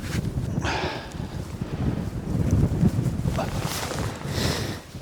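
Strong wind gusts across an exposed campsite, buffeting the microphone and flapping the fabric of an MSR Hubba NX tent, with steady rumbling noise and louder surges throughout.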